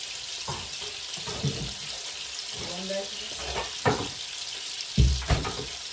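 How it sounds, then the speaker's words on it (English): Diced green chilies and tomatoes fry in a pan with a steady high hiss, broken by a few louder bursts of sizzling and scraping as the pan is stirred. "we're going to add in some green chilies, some diced green chilies, and some uh, diced tomatoes"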